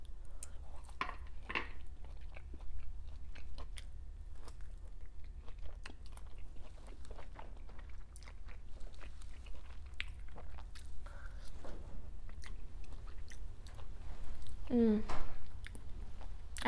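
Close-up crunching and chewing of roasted potatoes during a mukbang breakfast of loaded steak and eggs with French toast, with repeated bites and wet, crisp mastication sounds throughout.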